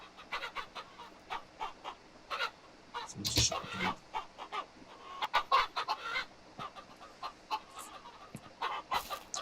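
Chickens in the video game King of Retail cluck in repeated short bursts, with a louder squawk partway through, while a person talks briefly over them.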